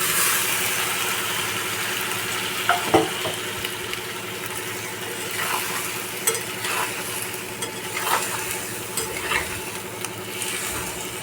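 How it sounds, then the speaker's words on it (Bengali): Soybean chunks and potatoes stir-fried in spice masala give a steady close sizzle, with intermittent scraping strokes of a spoon against the pan and a faint low hum underneath. "হালকা হাতে আমি এটা কষাবো"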